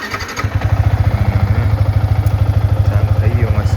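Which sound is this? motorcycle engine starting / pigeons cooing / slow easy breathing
motorcycle engine starting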